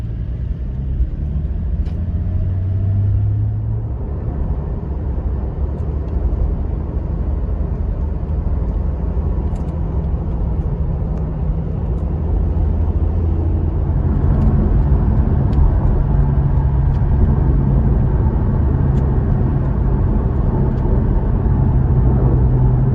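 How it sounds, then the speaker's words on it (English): A Porsche 718 Cayman GT4 drives on the road toward Munich, heard from inside as a steady, loud low engine drone and road rumble, with the pitch shifting slightly midway as it accelerates. "let's hit the road in the Cayman GT4"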